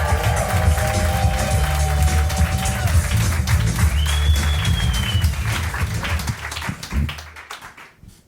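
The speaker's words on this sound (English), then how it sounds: "let's start clapping and cheering" A comedy club audience claps and cheers loudly for a comedian taking the stage, a dense continuous burst of applause with whoops that tapers off toward the end.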